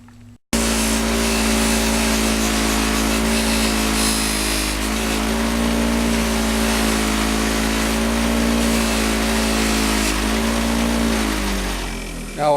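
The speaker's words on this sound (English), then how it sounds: "I can run over to the buffing wheel." A bench buffing wheel whines steadily at high speed while an aluminum master cylinder is polished against it, the motor starting abruptly and then holding a loud, even drone with slight pitch shifts as the part is pressed in.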